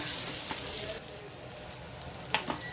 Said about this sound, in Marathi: दुसऱ्या साईडने पण छान फ्राय झाल्या आहेत